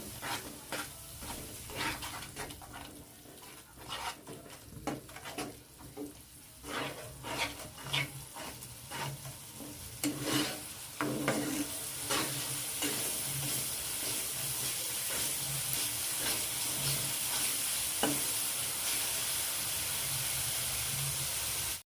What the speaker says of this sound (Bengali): দিয়ে দিচ্ছি ফেটানো টক দই এগুলোকে ভালো করে আবার কষিয়ে নেব